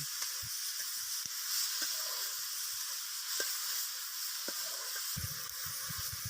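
Chopped banana flower and potatoes fry in a pan, giving a fairly quiet, steady sizzling hiss. Scattered soft clicks and scrapes of stirring fall across it, with a little rattling near the end.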